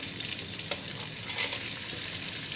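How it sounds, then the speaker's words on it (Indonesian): Chicken wings frying in a pan for a fast-breaking meal, giving a steady, close, loud sizzle and crackle of hot oil throughout with no talking. "So kepak ni kegemaran saya, okay? So kita akan goreng."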